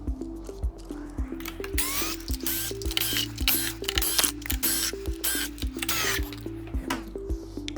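A screwdriver works small 3mm screws out of the top cover of an Inmotion P6 electric scooter, close-up rhythmic ratcheting clicks and scraping turns repeating steadily.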